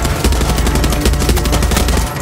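Dense gunfire rattles on without a break in the video game Far Cry 6: loud, rapid overlapping shots with a heavy low rumble beneath, like a crowded firefight.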